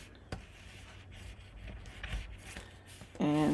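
Paper pressed and rubbed along score lines while assembling a 7x7 mini album, giving soft, close scraping strokes at low volume, with a brief louder tonal noise at the very end.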